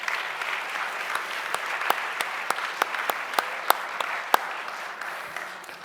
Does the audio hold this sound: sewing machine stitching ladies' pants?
no